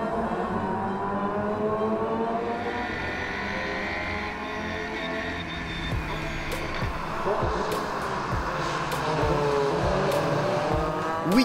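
Race cars in the Fun Cup endurance event at Mettet lapping a soaked, slippery circuit in heavy rain, engines droning steadily with repeated passes and revving throughout, a constant loud mechanical roar with spray-like hiss.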